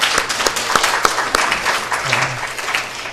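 Church congregation clapping for a newly arrived member, a brief burst of scattered hand claps with distinct sharp slaps, close and fairly loud, over a murmuring room.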